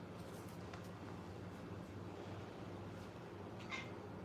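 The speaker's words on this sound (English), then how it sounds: "And this here's Pikachu the cat. He loves to join us." A pet cat meows faintly a few times during a live Buddhist practice session, brief mewing calls rising above a steady low background hum.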